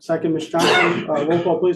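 A single sharp sneeze bursts out between stretches of close-up talking during a school board meeting roll-call vote, briefly louder than the voices around it.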